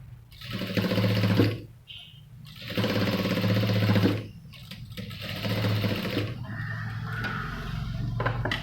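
A sewing machine stitches a saree design in repeated bursts of rapid mechanical chatter, each run lasting a second or two and separated by short pauses, close and loud.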